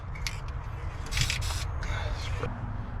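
Spray paint hissing onto Ford truck parts in DE 1620 04 blue, covering the bolt holes on a 1968 Ford F100, in several short bursts of close hiss and a longer spray, with speech over it.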